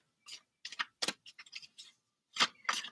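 Short bursts of tarot cards being shuffled, quick riffling swishes in several separate spurts, close and fairly quiet.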